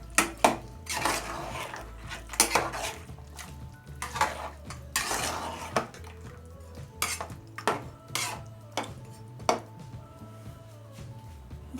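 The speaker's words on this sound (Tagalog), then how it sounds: "Haluin lang natin." A spoon stirring beef kaldereta in a metal pot, making repeated close scraping and clinking knocks in an irregular rhythm over a soft simmering background.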